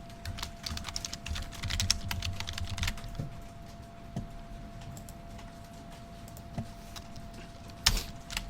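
Soft, fast keystrokes tap on a computer keyboard during Java coding, with irregular clicks, a few louder key presses and a faint steady hum behind them.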